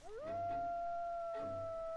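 A single wolf howl in The Long Dark video game, rising then holding a long steady tone with a faint higher harmonic, carried over quiet snowy wind ambience.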